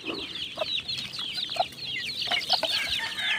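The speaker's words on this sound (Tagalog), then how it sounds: "Ayan po mga kaibigan yung ating alagang sisiw." Pet chicks in a small poultry pen cheep in a busy cluster of high, rapid peeps, overlapping and steady, with soft rustles and scratches underneath, fairly close and moderately quiet.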